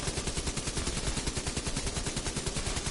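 Light machine gun fire in The Division 2, a steady, fast rattling stream of loud shots with an even rhythm from start to end and no voices.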